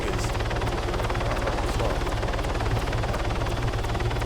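A helicopter in Arma 3 thrums with a close, continuous rotor chop and engine whine, steady and loud, while someone speaks briefly over it.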